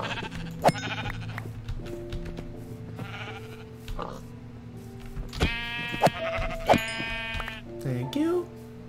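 Sheep in the video game Minecraft let out several short, wavering bleats, some close and loud, with a player talking over and between them.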